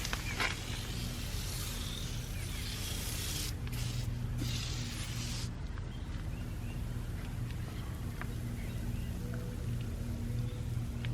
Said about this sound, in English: Let's spray it in the wheel wells as well.